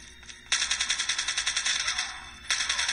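Gunfire from a mobile shooting video game plays through a phone speaker as a rapid automatic burst of evenly spaced shots, a brief pause, then a second short burst. The shots are moderately loud over a faint background.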